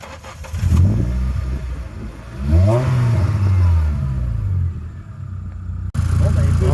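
A Renault Clio III RS Cup's small turbocharged engine is blipped a few times nearby, with sharp rising and falling revs over a steady idle while someone talks over it.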